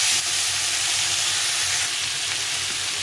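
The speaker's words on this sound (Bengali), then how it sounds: "এটাকে ভালো করে একটু কষিয়ে নিতে হবে অনেকক্ষণ ধরে, যতক্ষণ মশলা গন্ধ থাকবে ততক্ষণ কষিয়ে নিতে হবে" A spice paste being sautéed for a cauliflower, pea and paneer curry gives off a steady, close sizzle with soft frying hiss, continuous and even for the whole stretch, with no voices.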